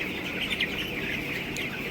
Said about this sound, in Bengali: মুরগি সব খাওয়া দাওয়া করে বসে রয়েছে